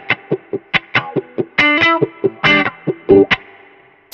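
An electric guitar through a wah pedal, with distortion and chorus, plays a run of short, choppy, plucked notes and a few swelling sustained ones, loud and close with no talking.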